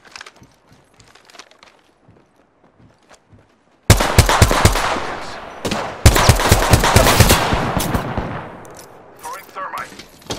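Gunfire in a shooter video game: after a quiet stretch, a sudden burst of loud, dense automatic shots that keeps going, broken by a short pause and then resuming, with speech faintly mixed in.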